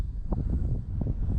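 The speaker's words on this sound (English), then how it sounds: "that sudden wind just caught it" A sudden gust of wind buffets the microphone outdoors while an E-flite Valiant RC plane flies, giving low, uneven rumbling thumps for just over a second.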